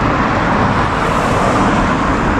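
Steady, loud road traffic on the airport road near Belfast harbour, a continuous roar of cars and heavier vehicles passing close by with no pauses.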